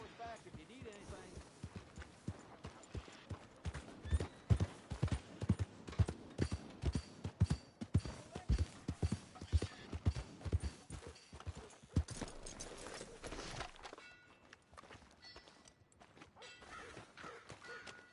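Horse hooves clip-clop at a walking pace in Red Dead Redemption 2, a steady run of close, distinct thuds that thins out near the end, with a voice talking over part of it.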